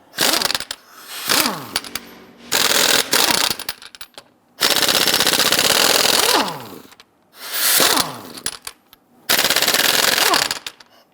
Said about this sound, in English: Using a 22mm socket, loosen and remove the lug nuts.